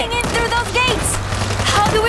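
Rapid gunfire mows down zombies in World War Z Aftermath, a dense, loud stream of shots crackling continuously over a noisy game soundscape.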